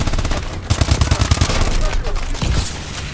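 Automatic gunfire in a video game: rapid, loud, close bursts of shots in quick succession, broken by a brief pause before another short volley.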